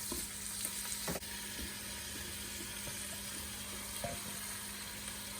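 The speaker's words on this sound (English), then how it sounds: "it's good just to brown the meat" Beef browning in a Ninja Foodi pot, a soft, even sizzle with faint low hum and occasional light scrapes or taps, fairly quiet and steady.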